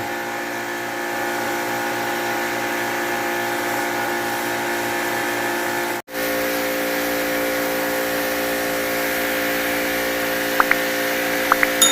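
Pressurized air blows dust off car seats in a loud, continuous hiss alongside a steady compressor drone, briefly cutting out midway before resuming, with a few faint clicks near the end.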